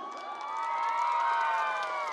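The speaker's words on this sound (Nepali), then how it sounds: "ताली त्यत्तिकै आउँछ बजिरहेछ" Crowd cheering and whooping at a live comedy show, a continuous sustained roar of many voices with no clear individual clapping.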